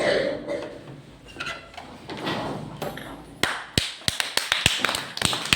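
Sharp electronic clap sounds from a DIY electronic kit, a rapid irregular run of crisp taps near the end following quieter rustling and handling noise.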